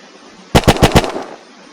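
MP40 submachine gun fired in the survival game Unturned with a Western Front weapons mod: a quick burst of four loud, evenly spaced shots standing alone against near silence.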